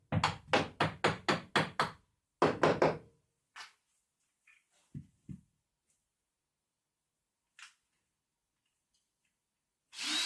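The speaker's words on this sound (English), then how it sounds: "I just tap this in where I'm going to drill." A quick run of sharp hammer taps on a screw before drilling, about a dozen in two bursts, followed by a few softer knocks and scattered small clicks, close by.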